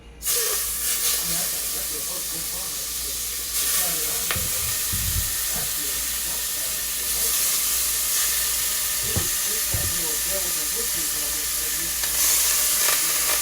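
Oxtails sizzle and hiss steadily as they brown in a hot pan with thyme, a bright continuous crackle with occasional clinks and stirring, a voice speaking faintly underneath.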